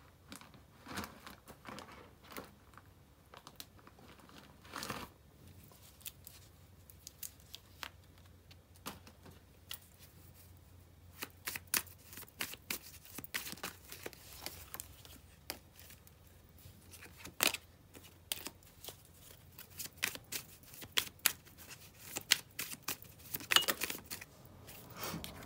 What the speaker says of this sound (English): Let me pull some more cards from here.